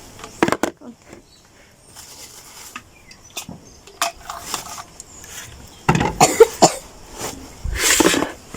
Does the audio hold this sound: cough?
yes